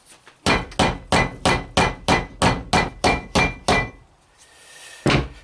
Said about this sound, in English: I use a mallet